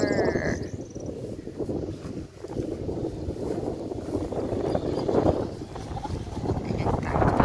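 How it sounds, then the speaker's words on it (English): A tractor cutting grass: steady low engine rumble with rough, broadband mechanical noise running throughout, some wind buffeting on the microphone, nearby and fairly loud. "Ayan, tractor. Nagkakat ng grass."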